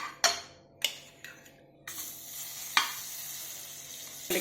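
Butter sizzles in a pan while paneer butter masala is being cooked, a soft close hiss with a few sharp clinks and stirring sounds, ending in a steady frying sizzle.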